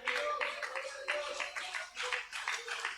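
A church congregation applauds, clapping together in a steady, quick rhythm that carries on without pause at moderate volume.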